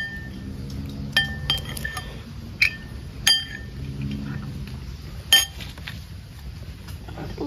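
Light taps and clinks on a ceramic or glass bowl, a handful of sharp ringing strikes spaced irregularly over faint background noise.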